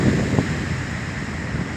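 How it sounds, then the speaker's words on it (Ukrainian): A stormy sea on the Chilean coast: wind roars against the microphone over a constant rush of surf, loud and steady without any pause. "Море штормить, капец!"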